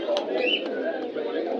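At the Jinjira pigeon market in Bangladesh, king pigeons give brief soft coos and bird calls amid the market's steady background murmur.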